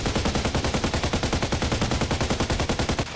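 Rapid automatic gunfire from a sniper shooting game, a steady fast burst of evenly spaced loud shots lasting about three seconds, then stopping abruptly.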